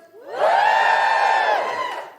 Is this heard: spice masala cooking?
no